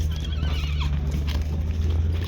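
A horse at a livestock horse market gives a whinny over a low, steady background hum, with the sound carrying at moderate distance and no clear speech.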